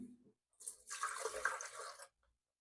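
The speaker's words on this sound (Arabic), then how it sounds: "ونحط كوب مية" A cup of water is poured into a blender, a brief close splashing gush of about one and a half seconds that then stops abruptly.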